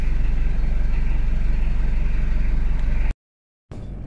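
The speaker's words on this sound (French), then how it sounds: "Le bon vieux mazout s'est mis en route." A diesel 4x4 engine idles steadily with a low, even rumble close by, then cuts to silence briefly before the running sound returns.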